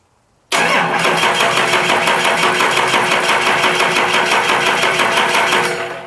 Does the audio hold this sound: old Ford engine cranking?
yes